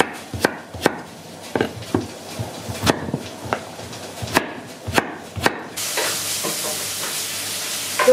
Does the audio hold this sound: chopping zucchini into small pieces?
yes